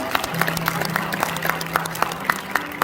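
A church congregation at an ordination thanksgiving service applauds together, with steady, evenly spaced claps filling the room under a faint voice.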